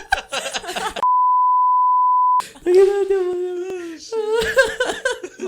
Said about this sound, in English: I think you can just beep it out.